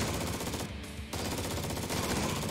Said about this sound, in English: Chain gun! Out of ammo. Reload.